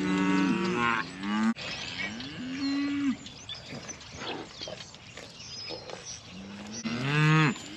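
Cattle bawl in a pasture, several long, loud moos close by, with quieter rustling and shuffling between them and no talking.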